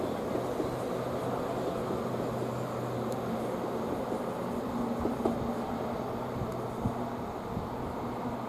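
A train pulls away from a station heading towards London St Pancras International: a steady, loud rumble of wheels and traction with faint rail clicks and squeals throughout, no pauses.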